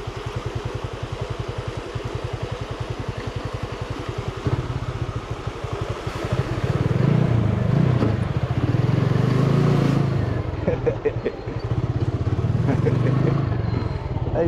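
A road vehicle's engine revs hard without a gear change near the Sabaneta dam in San Juan de la Maguana, a loud steady drone that swells into a heavier roar midway, with voices faintly underneath.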